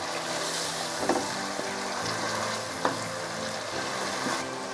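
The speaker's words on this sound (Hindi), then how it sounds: "तीन मिनट तक इसकी मज़ीद भुनाई करूँगी मैं।" Beef karahi frying in oil in a pan, a steady close sizzle with occasional stirring knocks and scrapes, moderately quiet and without speech.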